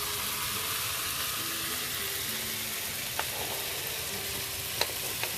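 Tomatoes frying in oil in a pan, a steady soft sizzle and crackle with a couple of faint sharp ticks, close and quiet with no talk.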